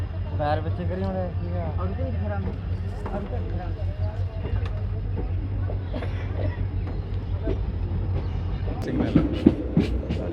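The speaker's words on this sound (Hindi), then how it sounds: "लो जी ट्रेन चल चुकी है गिद्दड़बाह से।" Passenger train 14526 pulling out of Gidderbaha station, a steady low rumble of moving rail carriages with a faint clatter, heard from on board beneath continuous nearby chatter from passengers.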